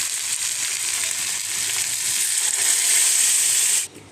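Dal poured into hot oil and frying spices in a saucepan sets off a loud, close sizzle that builds steadily and then cuts off at the end.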